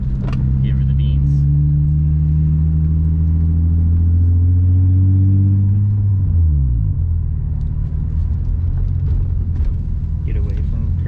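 A Nissan G35 with resonated test pipes, two resonators and a muffler rumbles deep and loud, its engine note climbing and then dropping away, with people talking over it inside the car.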